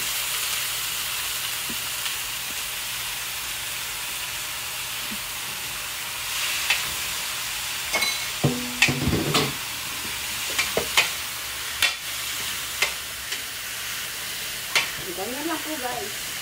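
Bitter gourd (ampalaya) frying in a home pan, a steady hiss of sizzling oil with clacking spatula stirs and scrapes breaking through in the second half, close and moderately loud.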